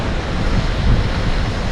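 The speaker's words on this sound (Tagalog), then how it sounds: "Tapos malakas po ang hangin." Strong wind blows by the sea, a loud continuous rush buffeting the microphone with low roaring gusts and no pauses.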